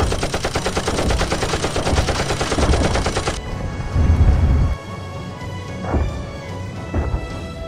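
Battlefield gunfire in a war drama scene set in a Korean war scenario: several minutes' worth of rapid machine-gun bursts fire continuously and loudly, then break off into scattered single shots and distant rumble.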